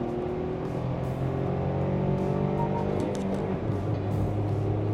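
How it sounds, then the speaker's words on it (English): A 2024 Maruti Suzuki Dzire with a manual gearbox accelerates hard from a launch, giving a steady, loud engine drone with rising tonal lines, heard from inside the car with no talk. "Listen to the engine."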